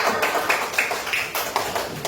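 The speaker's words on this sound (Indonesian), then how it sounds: "tepuk tangan untuk kita semua" A class of second-grade children at SDN 07 Binuang Kampung Dalam claps together in a short, steady burst, the sharp hand slaps coming in a quick, even rhythm and filling the room for about two seconds.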